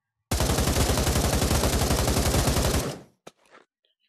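A gun fired with a grip lets out a rapid, continuous burst of gunfire lasting about two and a half seconds, loud and close, then cuts off, followed by a couple of brief clatters.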